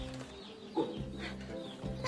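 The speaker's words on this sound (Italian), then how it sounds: "Ma da dove arriva quella gallina?" A cartoon hen clucks in a short run of squawky, mid-pitched calls, fairly close and clear over a steady background bed.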